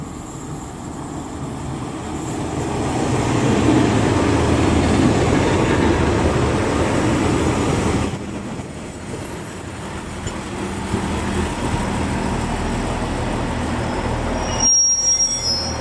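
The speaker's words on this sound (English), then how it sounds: "there's a train over there" A passing railway train, likely a Pacer unit, rumbles loudly and steadily close by while its wheels squeal in sustained high-pitched screeches, the roar changing character partway through and continuing to the end, with no talk.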